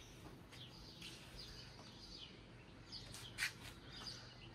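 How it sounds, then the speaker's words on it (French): Scattered bird chirps and calls outside a quiet countryside estate in Tuscany, Italy, brief tweets rising now and then over a soft steady background, one louder call standing out near the end. "il y a énormément d'oiseaux qui débarquent d'un coup"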